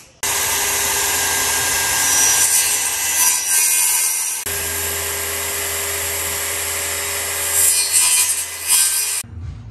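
Power saw cutting stenciled plywood for a van floor, a loud, steady whining buzz with a rough grinding edge that runs almost without pause, dips briefly midway, then stops abruptly near the end.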